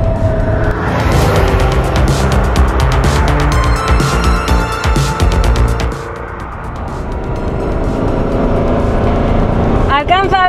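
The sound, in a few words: Ferrari 512 BB 1979 twelve-cylinder engine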